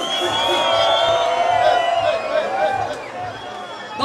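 A large concert crowd at a live reggaeton show shouts and cheers in a steady roar, while an amplified voice speaks over the noise throughout.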